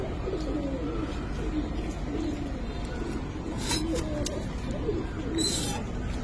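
Pigeons coo in low, repeated burbling calls, Giribaz, Subchila, Army, black-neck and Kaldom breeds kept for sale, with faint chirps and a few sharp high noises in the background.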